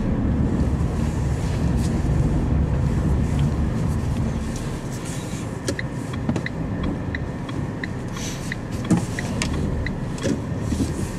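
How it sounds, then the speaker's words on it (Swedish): Heavy road traffic streaming past, a steady close wash of tyre and engine noise mixed with wind buffeting on the microphone, with occasional louder passes and no talking. "Oj, gud vad mycket trafik."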